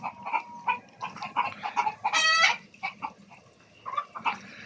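Hens on a poultry farm cluck steadily nearby in short repeated bursts as they are given water, with one louder drawn-out squawk in the middle and quieter clucking trailing off.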